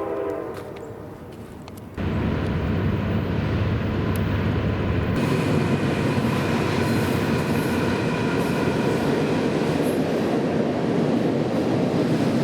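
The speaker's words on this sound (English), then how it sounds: "We're just waiting for the train to come by." A train at an amusement park rumbles past close by, a dense steady roar of wheels and cars that builds suddenly and stays loud to the end, with a faint horn-like tone at the start.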